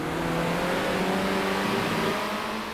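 Kart engines in a racing video game, a steady buzzing drone with sustained revving tones, several karts close together, loud and continuous without talk.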